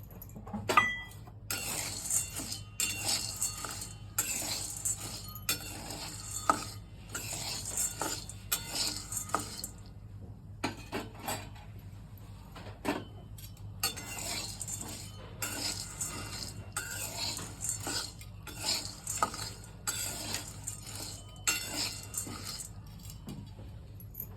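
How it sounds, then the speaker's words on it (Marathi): Chana dal being dry-roasted and stirred in a pan for sweet laddoos: a steady stream of light clinks and scrapes from a spoon against the metal, with rattling grains throughout, moderately close and without speech. "ही डाळ आपल्याला भाजून घ्यायचं आहे अगोदर"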